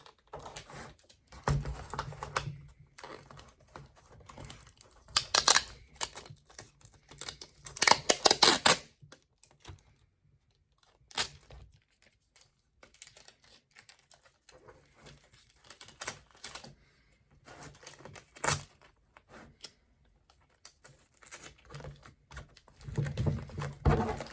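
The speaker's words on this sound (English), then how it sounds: "Now I'm going to put a piece of tape here." Tape being pulled and pressed onto cardboard packaging for an iPad, in scattered crackly bursts and short rips with quiet pauses between them. Close by, with no talking.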